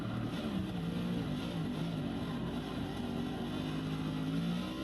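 Race car engine in Forza 6, revving steadily on throttle through a turn, a loud continuous drone with slight pitch swells and no pauses.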